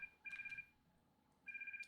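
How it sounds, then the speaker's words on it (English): A phone ringtone sounds in two short bursts separated by a pause, a thin electronic tone that stays faint and distant against a quiet background. "The second volley of your ringtone is much louder than before."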